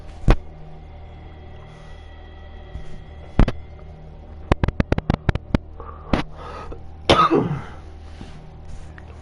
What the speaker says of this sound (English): So you'll have to excuse me, I've got a bit of a cough.